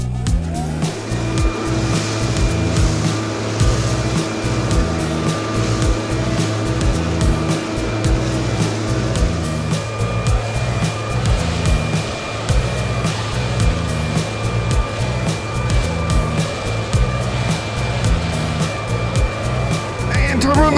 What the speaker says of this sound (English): Oh yes, I love my leaf blower.